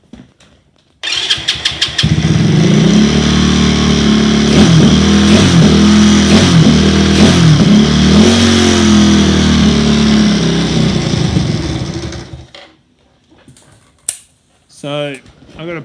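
A supercharged postie bike engine on its first run, tuned far too lean, fires up and idles roughly with uneven revving for about eleven seconds, loud and close, then cuts out; a few brief knocks and a rising whine follow.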